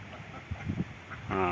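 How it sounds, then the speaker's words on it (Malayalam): Short nasal quacks of domestic ducks sound close by, a few scattered calls over soft background noise, in a village beside rice paddies. "അവിടെ നമ്മുടെ താറാവുകളാണിത്."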